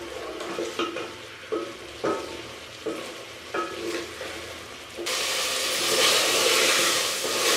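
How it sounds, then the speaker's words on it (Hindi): Chicken sizzles with yogurt and spices in ghee for aloo gosht. Periodic stirring scrapes rise over a steady fry, then the sound swells into a louder, continuous hiss near the end. "अब मैं दही के साथ चिकन को इतना भून लूँगी कि जो दही है वो अच्छे से भुन जाए"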